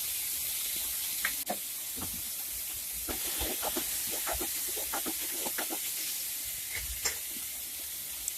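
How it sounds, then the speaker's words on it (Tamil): Onions with salt sizzle and hiss steadily in a pan while cooking for a potato kurma, with soft scrapes and stirring clicks, close and alone without talk. "வெங்காயம் சேர்த்துட்டு இந்த மாதிரி நல்லா வதக்கி விட்டுக்கோங்க"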